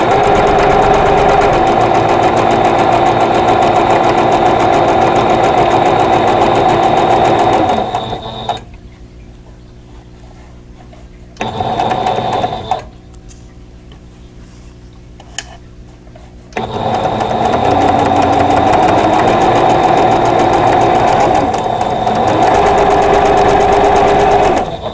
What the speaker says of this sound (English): start stitching where I ended, and I'm just overlapping by a couple of stitches here